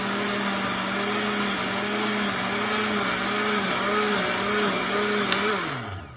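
A blender purees cilantro with a nopales cactus corn tortilla mix, a steady loud whir with a rising and falling motor pitch that winds down near the end.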